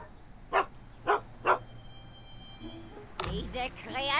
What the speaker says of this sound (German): Das ist ein Hund, Mensch.